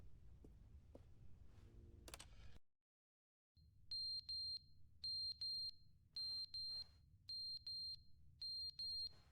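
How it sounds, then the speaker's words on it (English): A carbon monoxide alarm in The Stanley Parable video game beeps in short, loud, evenly spaced electronic pulses, coming in pairs, after a brief burst of other game sounds and a moment of silence. "I don't like the beeping."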